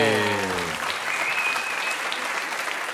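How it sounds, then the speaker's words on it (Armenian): Audience applause at the Masked Singer Armenia as the Penguin is unmasked, a dense, steady roar of clapping that sustains throughout, with a musical sting fading out at the start. "Ծափարություններ բարձր Պինգվինին"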